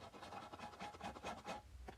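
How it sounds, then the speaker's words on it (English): Sandpaper gently rubs rust off a metal part from a Lionel type 1035 toy train transformer, a quick run of faint, close, rhythmic scratchy strokes, about a dozen in two seconds, with no talking. "just sanding it gently, trying not to take off most of the existing paint"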